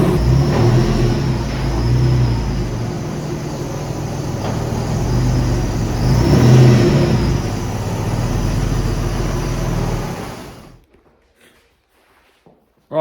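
A 1998 Porsche 996 engine revs and pulls away, a loud rumbling drone that swells mid-clip before fading into the distance and cutting to near silence.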